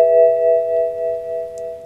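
A BMW car's check control alert plays a steady, clean electronic chime tone that holds for about two seconds before fading slightly, heard alone.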